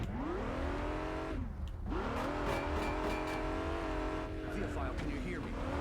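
Car engine idling and revving in the 2008 video game Alone in the Dark, a steady loud drone with harmonic pitch that dips and rises again, with voices faintly over it.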